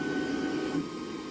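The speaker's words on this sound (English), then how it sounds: "we can retract, which will send the head up to the front and do the cutoff." Anycubic Kobra S1C 3D printer moving its head to the front and cutting the filament, a steady mechanical whir with a faint tonal hum that shifts slightly partway through, close and continuous with no voices.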